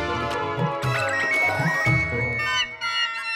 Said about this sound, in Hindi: किधर है मेरा मोबाइल? तो घर पे तो नहीं भूल गया? नहीं सर, यही बज रहा है सर।